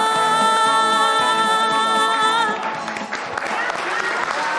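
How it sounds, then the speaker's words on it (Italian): A held sung or sustained musical note on a televised show gives way to a studio audience clapping, the applause rising after the music fades and continuing steadily to the end. "l'applauso anche per loro che sono stati bravissimi"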